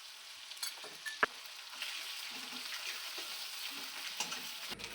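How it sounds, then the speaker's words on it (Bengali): Tomato with onion, garlic and ginger paste being stirred in a frying pan makes a soft, steady hiss. One sharp metallic clank sounds early, followed by gentle scraping strokes. "ছোট ছোট করে কেটে রাখা টমেটো, পেঁয়াজ বাটা, রসুন বাটা, আদা বাটা দিয়ে ভালো করে নাড়াচাড়া করে নিতে হবে"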